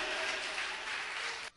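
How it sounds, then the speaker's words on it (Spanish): Congregation applauding in a church service, a dense, steady wash of many hands clapping close and loud for most of the clip before cutting off abruptly near the end. "Fuerte ese aplauso"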